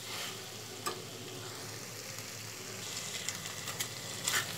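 Pointed gourd and potato fry with spices in a pan, giving a soft, steady sizzle and a few light stirring clicks; quiet and close, with no talking.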